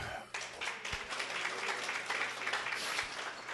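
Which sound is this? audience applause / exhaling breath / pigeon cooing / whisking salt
audience applause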